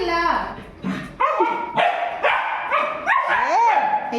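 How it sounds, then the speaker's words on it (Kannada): A dog barks and yips excitedly in quick, close bursts, with whimpering, pitch-sliding cries between them, while someone talks over the sounds. "ಬೊಗಳ್ತಾನೆ ಬೊಗಳ್ತಾನೆ ನೋಡಿ ಏನು ಮಾಡ್ತಾನೆ ಅಂತ"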